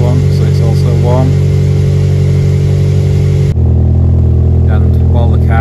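A second car's engine starts and idles to warm up before an oil and filter change, a steady low rumble near the microphone that shifts abruptly partway through, with a voice talking over it.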